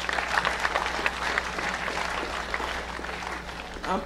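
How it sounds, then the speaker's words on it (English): Students at a gathering break into a round of applause for their accomplishments, a dense, even wash of clapping from a crowd that holds steady throughout, heard alone without speech. "So give yourselves a round of applause for your accomplishments."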